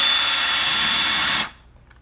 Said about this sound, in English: I'm gonna go ahead and drill a hole